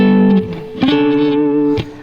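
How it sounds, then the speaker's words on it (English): An effects-laden electric guitar plays the chorus melody of a pop song, a short phrase of a few sustained, gliding notes, near and loud with no talk. "coming up with this sort of modern guitar version of a vocal melody"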